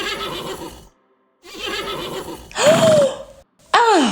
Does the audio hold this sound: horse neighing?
yes